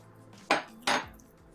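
Cabbage, minced meat and grated hard cheese filling stirred in a bowl, two close, sharp scraping knocks of a utensil against the dish over a quiet background.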